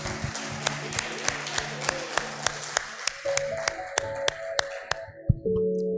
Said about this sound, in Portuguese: Aplauda bem forte ao Senhor, irmãos.